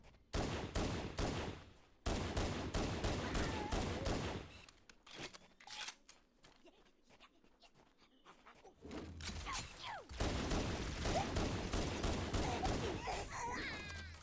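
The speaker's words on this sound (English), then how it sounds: "I'm just gonna tear into this guy with pistol." Pistol gunfire in a Halo video game: fast, loud bursts of shots in several long stretches, broken by a quieter lull in the middle, heard with no talking.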